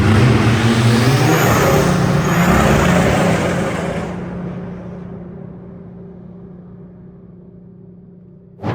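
A Seat Ibiza 6K2 TDI with a titanium exhaust accelerates hard nearby, its loud engine rumble rising for about four seconds before dropping away to a low idle hum, with a brief thump at the end.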